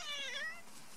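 A friendly black-and-white cat gives a single short, clear meow, close by and fairly soft, with no talk over it.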